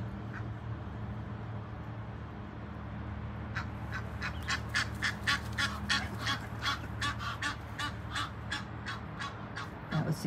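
A mother bird calls to her young on a hillside beside river locks on the Moselle, giving a long rapid series of loud honking calls over a steady low engine rumble, with no talking.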